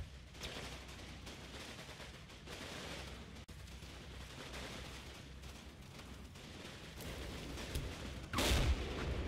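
An artillery barrage in the WWII strategy game Combat Mission Battle for Normandy rumbles as a dense, continuous wash of distant shell bursts and gunfire, fairly quiet overall, with a sharper nearer blast near the end.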